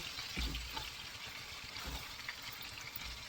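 Pork chops frying in a pan, a soft continuous sizzle with a few low thumps and bubbling, faint and close, no voices.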